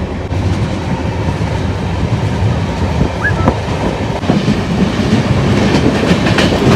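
An Indian Railways train crossing the Gandak river bridge between Uttar Pradesh and Bihar, heard from inside a carriage as a loud, steady rumble with rhythmic wheel clatter and a brief squeal.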